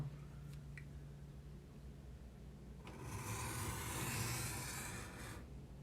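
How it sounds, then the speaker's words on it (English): An X-Acto knife cuts paper for a paper weaving, a faint, close rasping scrape lasting a couple of seconds after a quiet stretch with a few small taps, with no talking. "that's how to make the cuts with an X-Acto"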